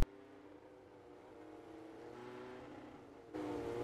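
A midget race car, the No. 24 Splash and Go graphics car, idles and rolls out onto an oval racetrack with a steady low engine drone, stepping up louder near the end.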